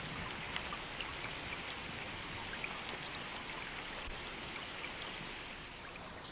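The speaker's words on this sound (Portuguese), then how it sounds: "E à medida que a tempestade de chuva continua, as águas sobem mais ainda." Heavy rain pours steadily over flooded plains and lakes in a crocodile habitat, a dense, even hiss of drops on water and surfaces with no voices, constant and moderately distant throughout.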